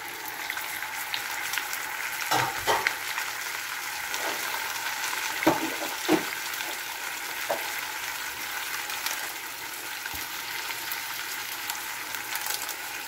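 Marinated pork chop frying in a pan, a continuous close crackling sizzle with a few louder pops and spatters, steady throughout and with no talk.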